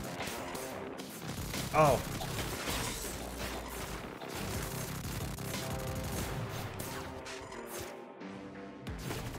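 Rapid machine-gun fire from the Soundfall video game runs loud and continuous under dense music and effects. A single brief voice exclamation cuts in.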